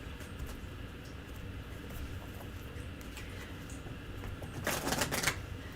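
Tarot cards being shuffled by hand, heard as a short, brisk riffling burst near the end over a quiet, steady room hiss.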